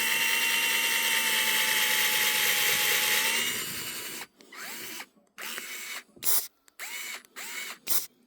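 Power drill boring through a steel rail with a drill bit: a continuous high whine for several seconds, then choppy stop-start bursts as the bit grinds and catches, close and loud.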